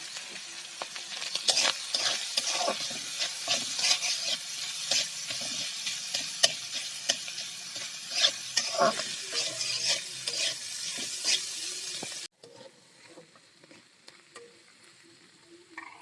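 Food sizzles and crackles in a hot pan with frequent stirring scrapes, a steady busy fry that cuts off abruptly into a quieter simmer.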